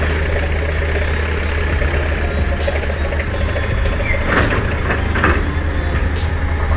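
A bus engine idles at a ferry dock boarding the KMP Batu Mandi, a steady low rumble holding for the whole stretch with faint dock noise and brief clanks over it.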